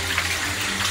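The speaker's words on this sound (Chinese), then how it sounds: "把这猪肝给它用清水给它洗一下，抓一下" Cut pork liver is rinsed and worked by hand in a small basin of clean water. The splashing and sloshing are close and continuous through the brief moment.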